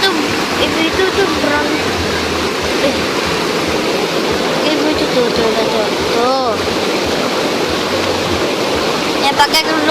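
Waterfall pouring steadily into a pool where people bathe, a dense continuous roar of rushing water throughout, with a person talking over it.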